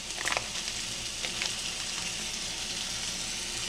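Steaks searing in a cast iron pan give off a steady, even sizzle with a few brief pops and scrapes near the start, close and moderately loud with no talking.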